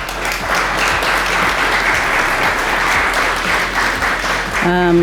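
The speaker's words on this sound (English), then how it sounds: "let's give them a round of applause" Sustained audience applause for the judges at an official opening event at The Rooms, a dense wash of clapping lasting throughout, with a voice briefly starting to speak near the end.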